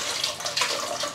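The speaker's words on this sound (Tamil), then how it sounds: "இட்லி பாத்திரத்துலையும் நம்ம இடியாப்பம் வேக வைக்கிறதுக்கு தண்ணி ஊற்றி வச்சிடலாம்" Water is poured into an idli steamer pot to boil for steaming idiyappam, a steady splashing gush close by with no talking.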